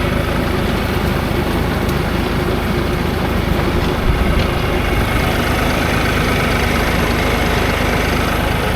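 A New Holland T4.80 tractor engine working a rotavator among low olive trees in an orchard, a loud, steady, close low rumble throughout.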